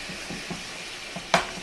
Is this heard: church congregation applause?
no